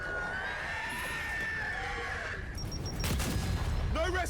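Gunfire and explosive booms in Gears 5 combat, a steady dense rumble of shots and blasts that grows louder in the second half, with shrill creature cries near the end.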